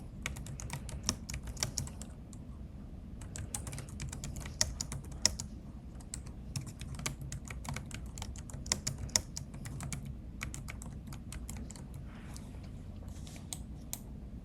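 Search terms being typed on a computer keyboard, a continuous run of quick close key clicks in uneven bursts with brief pauses, fairly quiet and alone.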